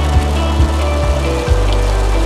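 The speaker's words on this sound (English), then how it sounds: "But right now, all I'm seeing is rain, rain, rain." Rain beating on a car while driving home through Michigan, a steady close patter and wash with low road rumble and a few heavier thumps, no talking.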